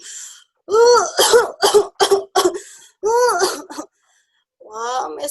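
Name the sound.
storyteller performing a character's cough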